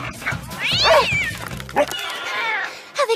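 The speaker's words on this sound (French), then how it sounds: "Oh non, un chat!" A cartoon cat meows twice, a long drawn-out wavering call followed by a second stretched meow, loud and close, with a short thump and a brief cry near the end.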